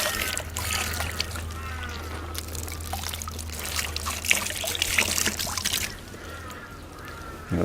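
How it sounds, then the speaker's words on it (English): A freshly dehaired wet animal hide being wrung out by hand, with water trickling and pouring off it steadily over a low background hum, plus faint bird calls in the distance. "give them a wring out."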